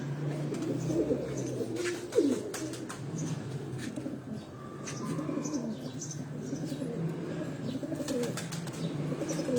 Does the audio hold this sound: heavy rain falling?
no